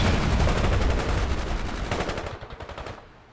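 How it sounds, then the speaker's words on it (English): Rapid machine gun fire in the World In Conflict video game, a loud, dense burst of shots that thins into distinct rhythmic pops and fades out near the end. "Load that machine gun"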